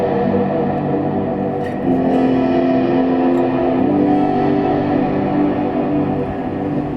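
Guitar played through a Seymour Duncan Silver Lake reverb pedal with added saturation, gritty distorted chords swelling into a long washy, dirty reverb tail, loud and close.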